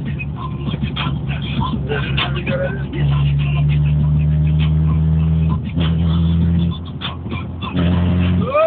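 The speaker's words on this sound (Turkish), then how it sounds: "Ben sağlam bir ara gazı veririm" A Tofaş Şahin 1.8 engine revs hard in bursts, loud and close, with sustained high-rev drones rising and dropping between throttle stabs.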